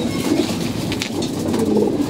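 Pigeons coo in a continuous close, fairly loud chorus of throaty rolling calls while being fed grain, with no voices.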